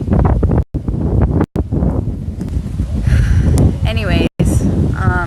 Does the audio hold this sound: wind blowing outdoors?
yes